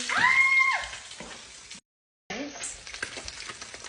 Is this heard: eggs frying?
yes